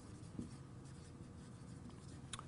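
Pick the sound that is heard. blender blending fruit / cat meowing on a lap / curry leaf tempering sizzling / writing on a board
writing on a board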